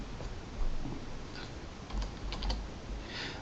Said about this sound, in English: But first we'll just type in fitted model.